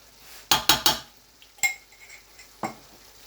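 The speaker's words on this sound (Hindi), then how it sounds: "इन तमाम चीज़ों को मैं अच्छी तरह मिक्स कर लूँगा" Metal spoon clinking against a cooking pot while ground coriander and turmeric are stirred into lamb keema, with a quick burst of three sharp clanks followed by two isolated knocks, close and without talk.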